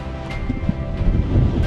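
Strong seaside wind at Xghajra, Malta buffets the microphone in a continuous low roar, with faint rustling and a hint of surf beneath it.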